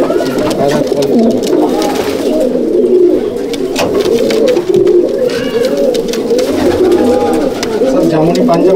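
Black pigeons in a home loft in Halisahar keep up a close, steady cooing chorus, rolling and overlapping calls throughout, with a voice faintly audible under the birds.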